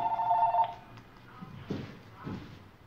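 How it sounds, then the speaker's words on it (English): Household telephone ringing, a short bright electronic ring burst at the start, followed by a few quieter knocks and handling sounds as the phone is picked up. "I get a phone call again. Here's the phone."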